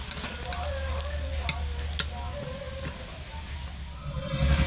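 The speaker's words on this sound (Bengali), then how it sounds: "বাকি মোচা আর কুচো চিংড়ি কড়ার মধ্যে আমি সব দিয়ে দিয়েছি, তো একইভাবেই ভেজে নেব লাল লাল করে।" Banana flower and small shrimp chops frying in oil in a wok, a continuous close sizzle dotted with sharp ticks and pops, swelling louder toward the end.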